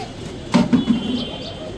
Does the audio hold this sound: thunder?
no